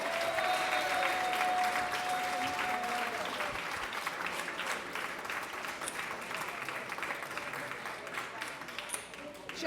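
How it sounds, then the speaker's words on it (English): An audience applauds after a program about a musician and his music: dense, sustained clapping from a crowd that slowly thins out, with a few voices mixed in. "Let's give them one more round of applause."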